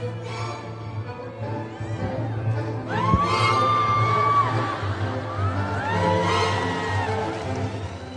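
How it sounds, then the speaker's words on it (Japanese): An audience at Lee Joon-gi's HERO fan event in Japan cheers, with a sustained crowd roar and high rising whoops and squeals swelling twice over the noise. "会場からは歓声が沸きました"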